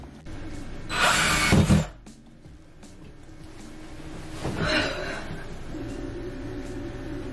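A power drill drives a large screw into a wall stud in two bursts, a loud close one followed by a softer, longer run, with bumps and handling noise between.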